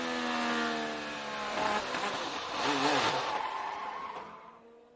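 On board Will Power's IndyCar during practice at the Toronto street circuit, the engine drones and its pitch rises and falls as the car spins, with a broad scrubbing screech before the sound fades away.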